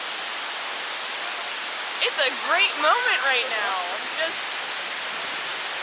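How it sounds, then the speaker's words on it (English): Steady broadband roar of a waterfall in Ryuokyo Canyon, Tochigi, Japan, constant and fairly loud throughout, with someone speaking briefly over it midway. "I didn't even realize there was going to be a waterfall."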